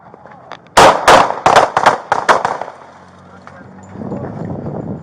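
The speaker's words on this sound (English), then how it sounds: "shots fired, suspect down" A rapid volley of about seven loud, sharp gunshots fired by police officers at a close street confrontation, followed by a murmur of voices and radio noise.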